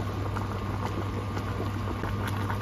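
Spaghetti boils in a pot of water with a steady close bubbling and light popping patter over a low continuous hum.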